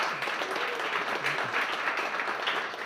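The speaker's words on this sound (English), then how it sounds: "Can you guys just give a big round of applause for Michael?" Applause for Michael, a board member, fills a room with a steady, even roar of many clapping hands for a few seconds, fairly close and unbroken.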